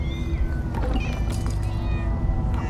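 Cat meowing in Minecraft Story Mode, a video game: a few soft mewing calls mixed into a steady, loud bed of game music and ambience.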